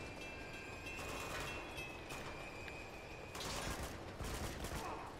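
Shotgun blasts and gunfire crackle amid the rumble of a moving train during a fight on board in the video game Uncharted 2: Among Thieves, dense and steady, with a few louder bursts and no talking.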